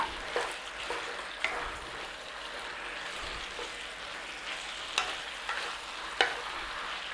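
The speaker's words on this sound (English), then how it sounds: "back in there with that cabbage. Stirred it all through." Chicken and cabbage stir-fry sizzles steadily in a pan while a spoon scrapes and stirs it through, with several sharper clinks and scrapes against the pan standing out over the continuous frying hiss.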